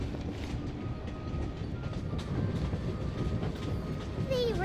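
A train rolls along a railroad bridge high over a canyon in the video game Genshin Impact, its steady rumbling clatter continuous and fairly close, ending with a brief metallic squeal.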